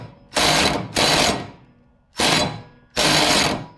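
A Ryobi 3/8-drive impact wrench with a 5/8 socket hammers at a mower blade bolt on a Simplicity 5212.5 mower, firing four loud, close bursts of roughly half a second each with short pauses between.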